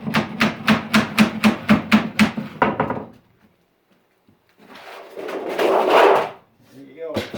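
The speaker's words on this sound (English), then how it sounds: "Take your hammer and finish off a little bit here." A hammer finishing a fold in sheet metal on a simple bending brake for a mobile home patch, a quick run of about nine sharp, evenly spaced metallic strikes, then quiet and a burst of rustling handling noise.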